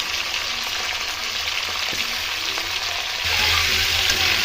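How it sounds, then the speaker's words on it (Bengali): Capsicum frying on a high flame, giving a loud, continuous sizzling hiss that swells slightly in the last second, with occasional soft stirring knocks and no voices. "পুরো হাই ফ্লেমে ক্যাপসিকামগুলো দিয়ে দিলাম।"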